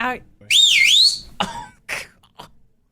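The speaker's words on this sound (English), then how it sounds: "I can whistle really loud." A very loud human whistle rings out close to the microphone, a single piercing sweeping tone lasting about half a second, followed by brief talk and reactions.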